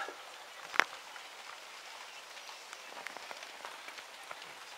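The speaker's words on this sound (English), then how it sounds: "It's raining cats and dogs" Heavy rain patters steadily on a surface outside during a home brew day, soft and continuous, with one sharp click near the start.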